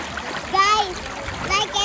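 Water splashing in the Nambalan River in Tarlac, close, continuous gentle splashing and trickling with children's voices talking over it.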